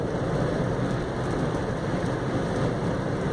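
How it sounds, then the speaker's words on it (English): Steady rain pours in a continuous, dense hiss outside a taxi on a July day, loud and unbroken with no voices. "it's raining in July"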